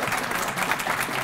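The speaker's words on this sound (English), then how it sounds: "they're all going to stand up and applaud" An audience applauds a State of the City speech in steady, dense clapping that holds at an even level, with no voices standing out.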